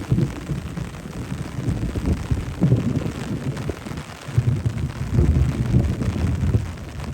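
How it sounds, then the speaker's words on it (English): Thunder rolls over a rainy Amelia Island boardwalk in Fort Clinch State Park, deep rumbling swells rising and fading under steady rain and wind buffeting, with no talk. "Well, there's your thunder."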